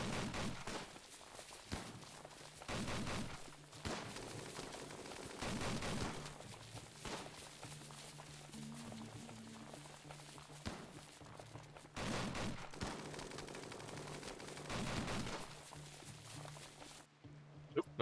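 Gunfire in RimWorld comes as repeated sharp, fairly quiet shots scattered irregularly across the stretch, some in quick pairs, over a low steady game background.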